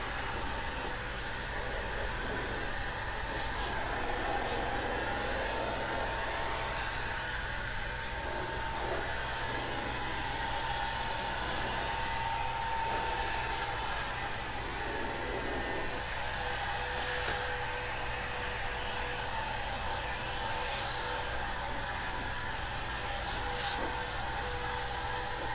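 A heat gun post-heats vinyl wrap on a car fender, a steady blowing whir like a hair dryer that runs unbroken throughout at an even level, with occasional faint clicks and no talking.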